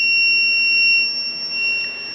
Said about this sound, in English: it's beeping. You can hear it.